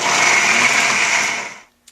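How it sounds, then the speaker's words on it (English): A food processor pulses on cranberries for salsa, a loud steady whirring burst of about a second and a half that cuts off abruptly, followed by a brief faint click. "I'm just going to pulse on this so that it chops it up"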